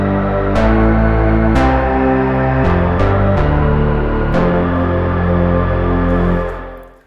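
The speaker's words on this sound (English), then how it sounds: "but actually together it's some super fat, fun patch." Fat layered synth patch from an Ableton instrument rack, a deep sustained bass under a noisy, buzzy lead, playing several loud chord and note changes with sharp attacks before fading out at the end.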